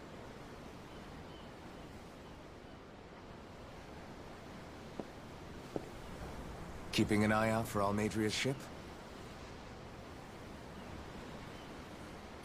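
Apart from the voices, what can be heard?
ocean waves in the video game Tales of Arise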